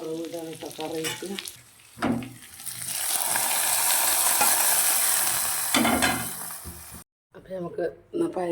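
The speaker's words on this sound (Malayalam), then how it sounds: "വറവിടാണ് കേട്ടോ കറിക്ക്." Onions and curry leaves tempering in hot oil in a non-stick pan, sizzling into a loud, steady hiss that swells for several seconds and then cuts off, with someone speaking before and after.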